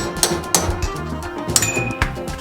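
A chisel taps against a stuck torsion bar spring plate on a Porsche 912: a few sharp, separate metallic knocks at uneven intervals, close and fairly loud, with a faint metallic ring between strikes.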